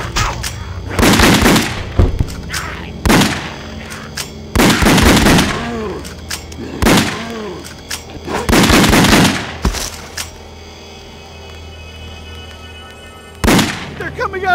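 Gunfire in The House of the Dead Overkill on Nintendo Wii comes in loud, close volleys of rapid shots and booms that break off between bursts, with game voices mixed in.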